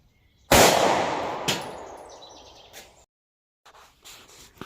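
A single sharp gunshot from a 9mm pistol with a short 3.1 inch barrel firing a 124 grain HST standard pressure round, a loud crack outdoors with a long decaying echo, followed by faint rustling.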